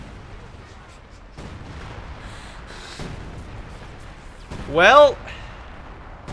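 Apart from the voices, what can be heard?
artillery strike in a WWII strategy video game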